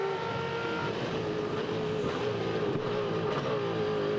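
A supercar race car accelerates smoothly to full throttle at the 2012 International Supercars race at Ipswich, its engine a loud, steady sustained roar that carries through an upshift with no break in sound.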